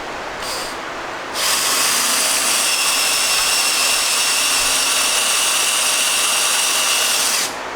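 A power drill with a 1/4 inch bit bores out rusty screw heads on a Monarch 10EE lathe's taper attachment, a loud, steady high whine running for about six seconds after a brief short burst.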